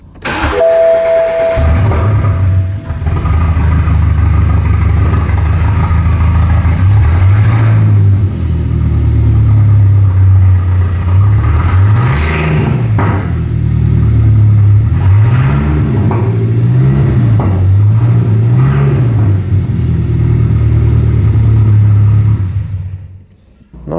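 A BMW E81 diesel engine running with its exhaust removed, loud and close, idling with a rough rumble and then giving several rising and falling revs in a row before cutting off.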